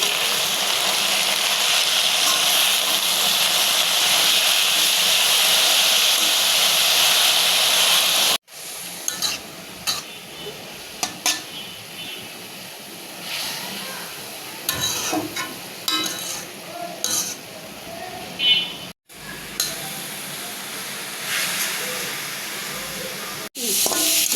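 Browned onions fry in a pan with salt added. A steady loud sizzle runs for several seconds, then gives way to uneven scraping and stirring with bursts of hiss.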